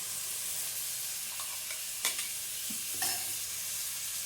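Tomato paste stirred into frying masala in a home kitchen pan, a steady close sizzle with a couple of sharp scraping clinks from stirring, no talk.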